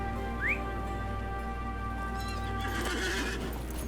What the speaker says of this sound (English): We might actually use a normal horse because I'm a little too low.